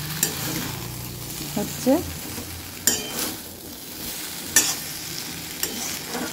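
Hot water poured into a simmering vegetable curry made with ginger-cumin paste and green chillies, producing a hissing sizzle with stirring clatters and metal clinks, and a brief spoken word.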